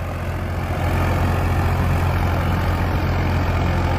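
The engine of a Farmtrac 60 tractor pulling a double-disc rotavator in a field runs at steady revs. It makes a loud, continuous low rumble close by, with no speech.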